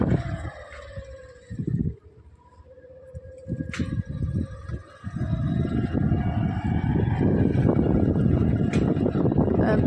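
Motorbike riding over dusty open ground, broadband engine and wind rumble swelling and steadily building louder and closer, gusty and continuous with no talking.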